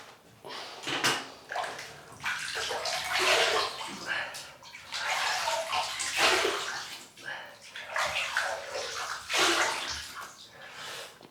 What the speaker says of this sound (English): We'll rinse the face.